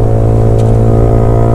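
Loud, close engine note from a Yamaha R15 motorcycle with an Arrow exhaust, holding a steady, raspy high-rev drone over a short stretch with no talking.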